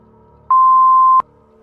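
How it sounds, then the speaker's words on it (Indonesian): A single steady censor bleep tone, loud and clean, lasting under a second with near silence before and after. "Tapi nanti di bip."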